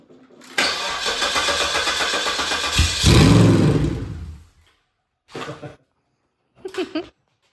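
A Cadillac Northstar 4.6 V8 sitting outside the car cranks, catches and runs loudly for a few seconds, then surges and dies. Two short bursts of sound follow after a pause.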